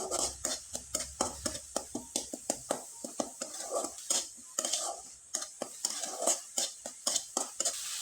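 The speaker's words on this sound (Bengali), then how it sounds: "খুব ভালোভাবে নেড়ে চেড়ে এবার শুকনো করে পুরটা তৈরি করে নিতে হবে" Spoon repeatedly scraping and stirring a coconut and jaggery filling in a pan, a steady rhythm of close, crisp clinks and scrapes over about eight seconds with a faint sizzle beneath.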